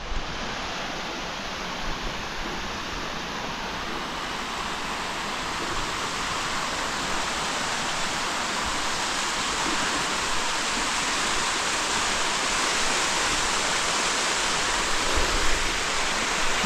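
Water pours steadily from a spout beneath a mountain cave in the Himalayas' Makalu-Khumbu area, a loud, dense rushing splash that holds constant and close throughout.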